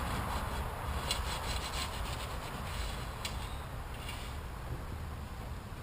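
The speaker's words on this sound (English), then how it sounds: "I've just got this little razor blade scraper, and I'll go along it" A small razor blade scraper rasps steadily along the hatch seal channel of a Jeep Wrangler TJ hard top, a continuous close-up scraping and rubbing with no talk.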